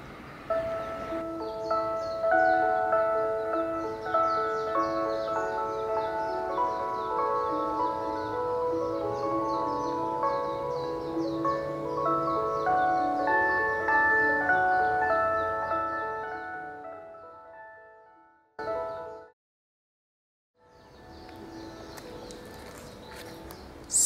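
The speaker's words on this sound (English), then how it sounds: "So what you just heard is the evening chime." An evening chime played daily at a shrine in a town, a slow melodic sequence of bell-like tones ringing out over open air for about eighteen seconds before stopping, followed by quiet outdoor ambience.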